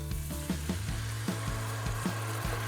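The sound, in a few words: dry white wine added to cooking risotto, sizzling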